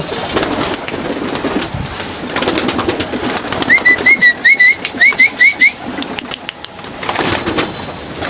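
Pigeons give about ten short, high calls in quick succession, loud and close, over a rustling, noisy background.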